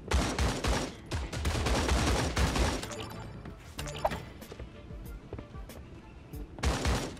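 Rapid bursts of video-game gunfire from a Fortnite knockoff shooter, loud and dense at the start, thinning to scattered shots and clatter in the middle, then a final heavy volley near the end.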